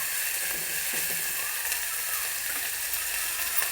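Toor dal lentils go into a hot pan of sizzling oil for a coconut curry, making a steady, close frying hiss with faint scraping throughout.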